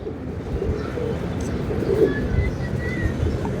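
Pigeon coos softly amid a steady low hum, a short murmuring call rising near the middle of a brief stretch, with no talk.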